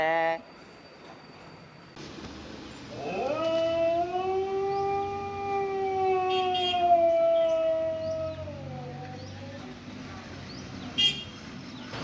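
A pet dog lets out one long, wavering howl at close range, rising and sliding in pitch for several seconds before fading, with quieter household noise before and after.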